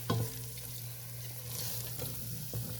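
Masala with eggplant and chickpeas is stirred in a pan, a steady sizzle running throughout with a few sharper scrapes of the spoon against the metal and a constant low hum beneath.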